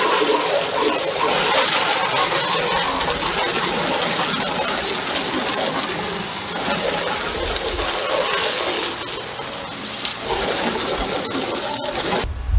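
A garden hose rinses TSP cleaner off a badly stained wood deck outdoors, a loud continuous rushing spray of water that holds steady for the whole stretch, with a few birds faintly audible behind it.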